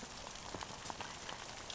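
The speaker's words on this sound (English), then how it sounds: "it's snowing and raining" Mixed rain and snow falls steadily with a soft broadband hiss and occasional distinct drops pattering close by.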